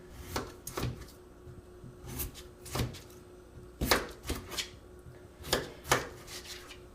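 A knife chops potatoes for French fries on a cutting board, giving a series of sharp, irregular thuds spaced about half a second to a second apart, close and clear with no talk.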